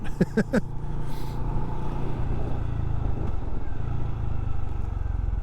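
A Benelli Imperiale 400 retro motorcycle being ridden gives a steady mid-level engine drone with road and wind rumble, a few sharp clicks near the start, heard close throughout.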